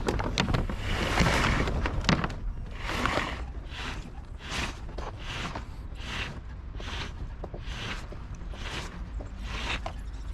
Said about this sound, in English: So we're going to pull up some foresail.